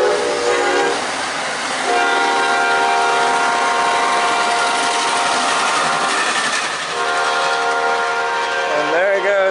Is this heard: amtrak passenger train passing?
yes